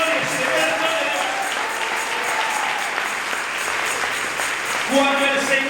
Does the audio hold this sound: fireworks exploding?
no